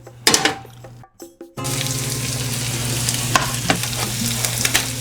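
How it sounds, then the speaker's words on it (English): Butter heats with onions in a pan. A few clatters and knocks come first, then a steady, loud sizzle with a humming undertone and occasional sharper crackles, and no talking. "I'm gonna put some butter and I'm gonna heat it up in this pan with some of the onions"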